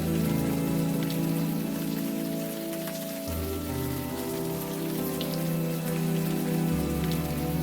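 Rain falling in Unavowed, a dense, steady wash of rainfall under a low droning background with no talking.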